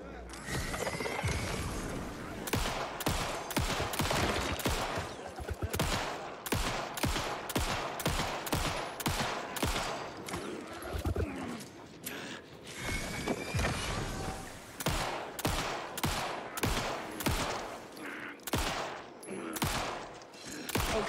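Gunshots in the video game Alan Wake II: a long run of sharp, evenly spaced shots with mechanical clicks and reloads between them, loud and close, with a person talking over the firing.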